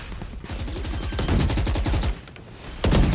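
Rapid bursts of automatic gunfire from a Valorant tournament finals match, dense rhythmic shots firing almost continuously with short pauses, loud and close, no talking.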